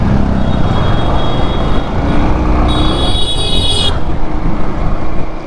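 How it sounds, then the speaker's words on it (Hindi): Dense, heavy road traffic heard up close, with a continuous roar of passing engines and tyres and a sustained horn blast partway through, with no talking. "यहाँ ज़्यादा बहुत ज़्यादा ट्रैफिक होने लग गया है भैया"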